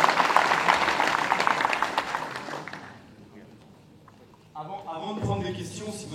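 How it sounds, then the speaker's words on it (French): An audience applauds at a sports coaching presentation, loud dense clapping that fades out over a few seconds, followed by a quiet pause and then a voice speaking. "Vous faites un applaudissement pour eux"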